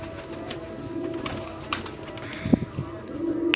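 Pigeons from a flock of about sixty birds kept for sale coo softly in low, repeated murmurs at a moderate distance, with a few sharper bird sounds near the end.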